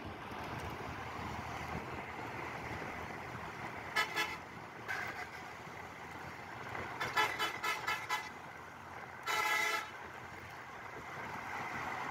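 A Hanif bus blares its horn while overtaking on the Jamuna bridge: a few short toots, then a rapid cluster of blasts and one longer honk, over steady road rumble and wind noise.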